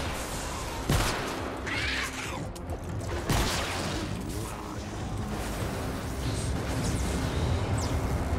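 Gunfire from a basic starter weapon in the Fortnite video game, a few sharp shots scattered over a busy bed of game noise and whooshes, moderately loud.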